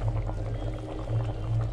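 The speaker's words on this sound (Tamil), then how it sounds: "பார்த்தீங்களா நல்லா கொதிக்க ஆரம்பிச்சிருச்சு." Country chicken soup boiling in a pot, a steady close bubbling and simmering wash with a low rumble underneath, continuous and even throughout.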